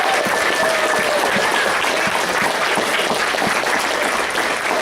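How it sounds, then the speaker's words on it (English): A crowd claps in sustained, dense applause, loud and steady throughout without pause. "A big round of applause for the guys that donate for that."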